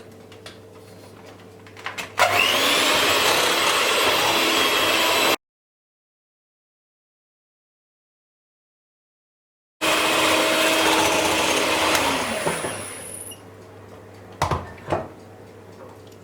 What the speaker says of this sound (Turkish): Yumurta ve şekeri güzelce çırpıyoruz.